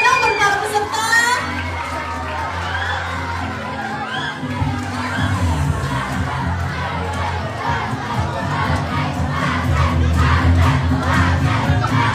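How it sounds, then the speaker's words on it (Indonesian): A school crowd applauds and cheers for student participants at a junior high school debate competition during Book Week in Jakarta, with loud, sustained shouting and clapping from many voices throughout. "Beri tepuk tangannya dong buat para peserta."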